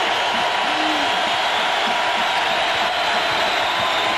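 A packed Purdue basketball arena crowd roars in a dense, steady wash of cheering that fills the whole clip without a break, at a 1998 Purdue versus Indiana game.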